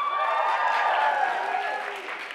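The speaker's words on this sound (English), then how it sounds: "round of applause for our special guest" Audience applause at a high school winter chorus concert: a short burst of steady clapping with some cheering, moderately loud, tapering slightly at the end.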